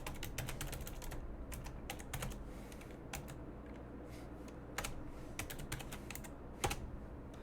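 Typing C# code on a computer keyboard, a steady stream of close, crisp key clicks in irregular bursts with short pauses, alone without talk.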